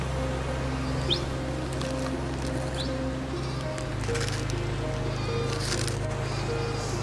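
Sheep bleat in an open mountain setting near Manali, a few wavering calls over a steady low rumbling hum that persists throughout.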